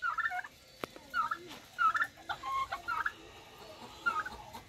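Chickens and roosters in a henhouse cluck and gobble in repeated short bursts, fairly close and lively, with no talking over them.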